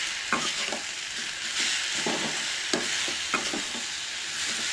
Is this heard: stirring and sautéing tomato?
yes